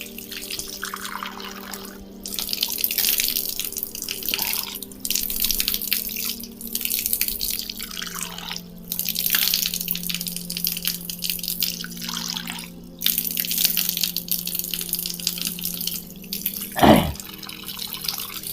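Water runs from a tap and splashes into a basin during wudu ablution, intermittent bursts of flow as hands catch and release it, with a faint background hum and a brief sharp knock near the end.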